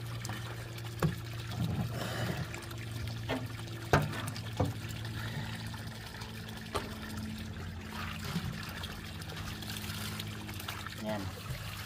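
Spring water from a mountain source trickles steadily into a container while it is being collected, a continuous soft dribble with a few louder splashes and clunks along the way.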